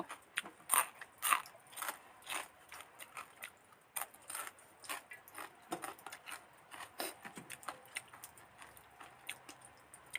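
Someone bites and chews crispy Thai pork rinds (khaep mu) close to the microphone, with quiet, irregular crunches spread through a mostly hushed moment.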